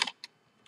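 Three quick clicks of typing on a computer keyboard, close and fairly crisp, with quiet pauses between them and no talk.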